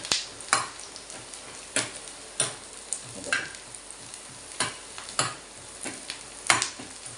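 Plenty of onion fries toward golden for a masala paste, a faint sizzle broken by regular spatula strokes scraping the pan about every second. Nobody speaks.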